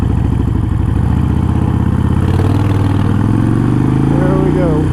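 A Harley-Davidson Sportster Iron 883 rumbles loud and close while being ridden, a steady low, thumping engine drone that rises slightly in pitch toward the end.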